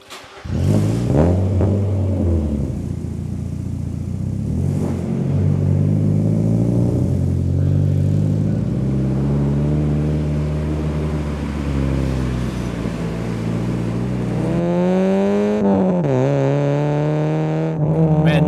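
A one-off Mazda Miata roadster built for the model's 25th anniversary is driven with a loud, steady engine note that climbs through the gears and eases off near the end, with no talking.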